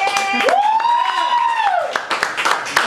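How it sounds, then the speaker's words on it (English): Audience clapping for two performers, broken hand claps with a loud whoop or cheer rising and holding over them, then scattered claps trailing off. "let's have a round of applause for those guys"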